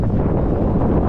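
Strong wind buffets the microphone in a continuous, loud low roar with no break on a windy open roadside scattered with tumbleweeds, beside a BMW 335i.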